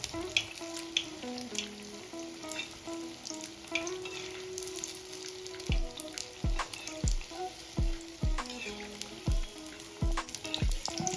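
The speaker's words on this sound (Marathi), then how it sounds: "गॅसची फ्लेम मिडियम ठेवायची म्हणजे व्यवस्थित भजे तळले जातील" Ridge gourd bhaji fritters deep frying in oil over a medium gas flame, with a steady close sizzle and a run of regular sharp knocks toward the end, and no voices.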